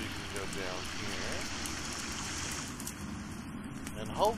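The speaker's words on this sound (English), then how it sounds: "hopefully it's not too loud, guys, when I go by this water" Steady rushing water from a stream in The Forest video game runs continuously at moderate level. Brief vocal-like tones rise over it now and then.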